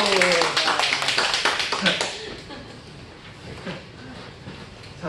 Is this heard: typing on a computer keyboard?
no